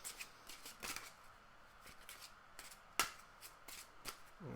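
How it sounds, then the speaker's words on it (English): A deck of Marvel Champions game cards being shuffled by hand, quiet riffling bursts and soft flicks in irregular rhythm, with one sharper snap of cards near the middle, close and faint. "that's a reasonably good shuffle"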